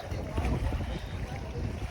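Fishing boat coming in at a busy landing, its low engine rumble mixed with wind and water noise, with people talking close by over it.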